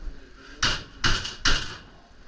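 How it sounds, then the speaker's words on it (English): A small 12-volt cordless drill tumbles off a workshop shelf with three sharp, loud clunks in quick succession, each a separate impact with a short ring-out, then quiet. "It's my little 12 volt fell off the shelf."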